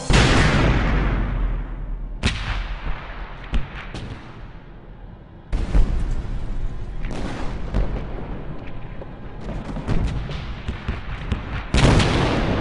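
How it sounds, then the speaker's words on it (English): A World War II artillery barrage thunders in repeated heavy booms at irregular intervals, some sharp and near, each trailing into rumbling echoes, with no voices over it. "A terrific barrage."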